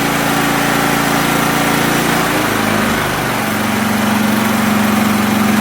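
A Champion 100520 portable generator runs on propane in eco mode, with a loud, steady engine drone close by whose pitch shifts and settles lower partway through, with no talk.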